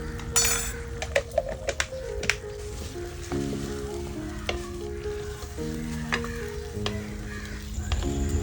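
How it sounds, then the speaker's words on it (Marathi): Liver (kaleji) with turmeric cooks in a pot while a ladle stirs it, with a soft sizzling bed and intermittent scraping and clinks of metal against the pot, heard close up without speech. "आणि या डावीने आपण हलवून घेऊया"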